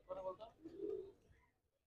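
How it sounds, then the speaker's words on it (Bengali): Pigeons coo softly at a busy pigeon market, a low warbling call rising and fading over under two seconds, with faint voices in the background. "এখানে উঠতি লাইনের কিছু কবুতর আছে।"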